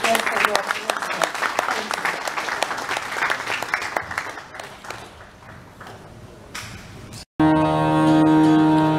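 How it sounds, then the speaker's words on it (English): Loud crowd applause at a live classical Indian music concert, dense clapping that thins out, cuts off briefly and gives way to a sustained tonal drone. "Big round of applause again"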